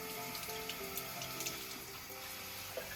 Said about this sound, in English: Time for another rinse.